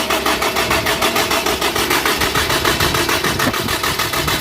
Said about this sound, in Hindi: ऐसे ही क्रैंकिंग करेंगे जब तक के इंजन ऑयल ऊपर ना आ जाए